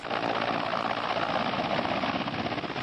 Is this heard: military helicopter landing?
yes